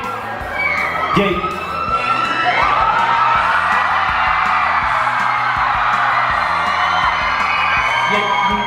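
A crowd at Comic-Con 2019 cheers and whoops loudly and steadily, with yells and high shouts over a constant roar and music-like low pulses underneath.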